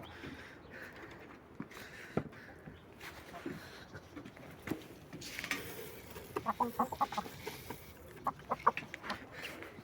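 Chickens cluck and murmur softly nearby amid rustling and scattered noises, with a brief flurry of higher calls toward the end.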